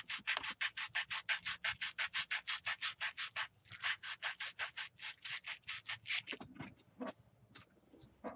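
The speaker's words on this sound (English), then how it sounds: "I'm just going to sand this down so that it'll go in there." A wooden drop spindle part is sanded by hand in a fast, even back-and-forth rhythm of rasping strokes, close and alone, slowing into a few scattered scrapes at the end.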